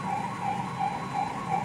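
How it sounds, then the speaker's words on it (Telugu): Ambulance siren wailing in a cycling two-tone pattern from a vehicle stuck in gridlocked highway traffic, steady and moderately close with road rumble underneath, no voices. "ఒకదాని వెంట ఒకటి అంబులెన్స్ వెళ్తున్నాయి"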